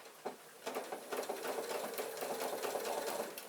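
A sewing machine stitching appliqué fabric for a quilt block runs in a steady, fast, even whir with rapid needle clatter, close and continuous after a brief start.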